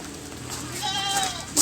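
An Etawa goat gives a single drawn-out bleat close by, rising then wavering, over quiet background chatter and farmyard noise.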